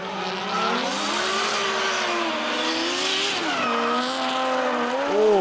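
Drift cars at near full throttle at Sydney Motorsport Park during a Drift Allstars round, engines wailing and shifting pitch with sustained tire squeal, loud and close, the note dipping and climbing as they transition.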